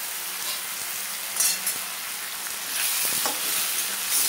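Ginger, garlic, onion, whole dried chili and green chili paste hit hot oil over fried potatoes, giving a steady close sizzle with a few stirring scrapes and a brief louder flare of frying.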